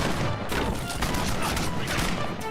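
Rapid bursts of gunfire in an online team shooter game, crackling densely and steadily throughout with a loud, constant intensity, mixed with game noise.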